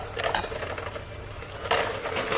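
An electric mixer beats chiffon cake batter made with egg whites, giving a steady, close, rattling whir that rises in intensity partway through, with no one speaking.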